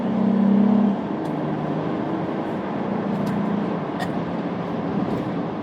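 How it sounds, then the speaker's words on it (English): Wind noise inside a 2015 Honda Odyssey EX-L minivan while driving, a steady low rushing roar that fills the cabin throughout, with a louder hum at the start and faint clicks scattered over the top. "Tiny bit of wind noise, because of course you are basically driving a big pod through the air"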